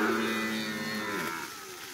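A herd of cattle being driven on a long cattle drive, a loud drawn-out moo ringing out close by and tapering off, with no talk.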